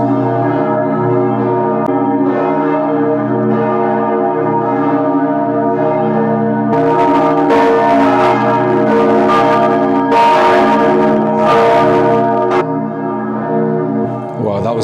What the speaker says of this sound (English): The bells have started ringing.